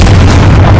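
A Confringo blasting spell goes off in Hogwarts Legacy, a short, very loud booming burst with heavy low rumble filling the whole moment.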